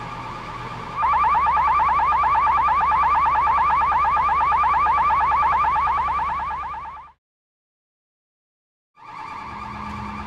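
An ammonia leak alarm at a neighboring facility in Port Canaveral blares a loud, fast-warbling electronic tone for several seconds, cuts out for about two seconds of silence, then starts again.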